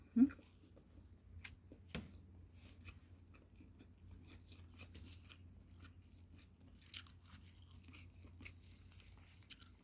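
Someone eating an omelette with minced pork at lunch, soft close chewing with occasional crunchy bites and faint utensil clicks, quiet overall, with brief low murmured talk.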